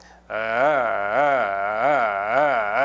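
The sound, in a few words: voice imitating a car engine starting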